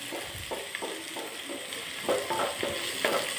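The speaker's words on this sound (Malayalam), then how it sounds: "ഒന്ന് ഇളക്കി കൊടുക്കാം." Tomato and onion stirred in a frying pan for chicken curry, a spoon scraping in repeated strokes over a steady close sizzle, with no talking.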